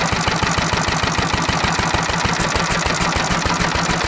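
A small engine run on pure SeaFoam fuel, mixed far too rich, idles loudly and close with a rough, uneven pulsing beat that stumbles with misfires throughout.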